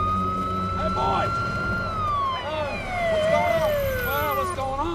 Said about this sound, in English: Is that the ambulance?